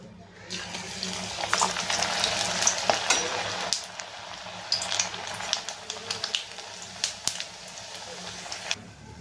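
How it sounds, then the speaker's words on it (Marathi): Bajra vade deep frying in hot oil, a steady close sizzle and bubbling with intermittent crackles and light utensil clinks throughout. "तर आपण आता हे जे वडे बनवून घेतलेले आहेत ते आता आपण तळून घेऊया।"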